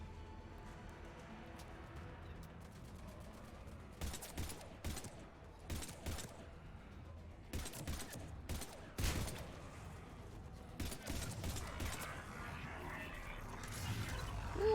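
Gunfire in the Mass Effect Legendary Edition video game comes as clustered bursts of sharp shots with mechanical clicks and rattles between them, at moderate level over a low game background.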